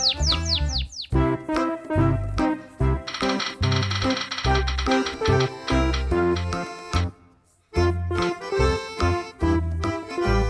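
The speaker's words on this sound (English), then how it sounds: "Canaries." Canaries singing in fast trilling runs and bright warbling phrases, loud and close, with one brief pause near the end before the song resumes.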